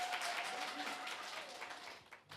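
Crowd applause at a CCM youth-wing political rally in Tabora, Tanzania, a dense steady wash of many hands clapping at fairly even loudness, fading slightly toward the end.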